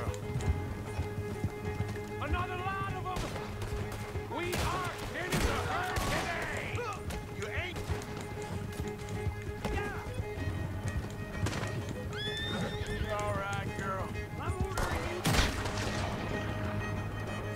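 Horses in the Red Dead Redemption 2 video game whinny repeatedly and clatter with clip-clop hooves amid scattered gunfire and crashes, the neighs rising sharply several times over a busy, continuous battle din.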